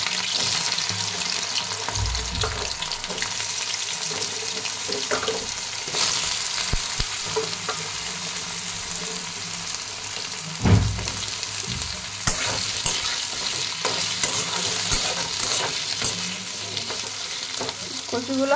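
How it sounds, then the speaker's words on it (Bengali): Taro pieces fry lightly in oil with a loud, continuous sizzle, punctuated by occasional stirring scrapes and a brief thump midway. "এবার আমি ওই তেলের মধ্যেই যে কচুগুলো কেটে রেখেছিলাম সেগুলো দিয়ে দেবো। কচুগুলো আমি হালকা হালকা ফ্রাই করে নেব।"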